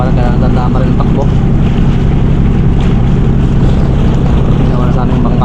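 A motorboat runs steadily on a river in the evening, its loud continuous engine drone mixed with water wash and wind buffeting the microphone, close and unbroken throughout.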